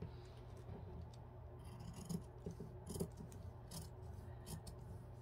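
Scissors snip through fabric around a paper sewing pattern, a few quiet, scattered cuts and rustles heard up close in a hushed room.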